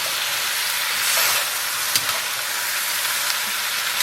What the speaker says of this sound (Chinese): 然后给它煸炒均匀